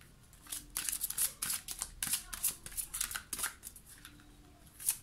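Tarot cards are shuffled and drawn by hand, making close, quiet flicks and riffling snaps in irregular bursts, with no voices.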